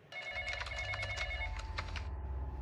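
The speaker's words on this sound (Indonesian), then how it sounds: "sang petugas polisi wanita menerima sebuah panggilan telepon" A telephone rings with a close, bright, trilling bell, sounding in one short burst without any voices.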